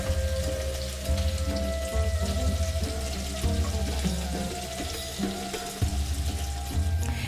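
Meatballs for a Persian walnut pomegranate stew sizzle briefly in a pan. The frying hiss is steady and dense, like rain, and carries on without a break under a low, even background hum.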